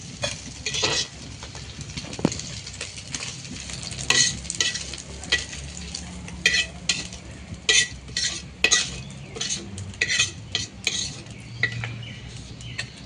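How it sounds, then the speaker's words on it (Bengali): Dried fish frying in oil in a pan, sizzling steadily while a utensil stirs and lifts the pieces out with repeated scrapes and light metallic clinks, no talking. "আমার এখন ভাজা হয়ে গেছে শুটকি মাছটা, আমি এখন তুলে নিব"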